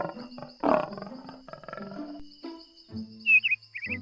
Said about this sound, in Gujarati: જ્યારે મગજ ન દેખાયું તો સિંહે ગર્જના કરી.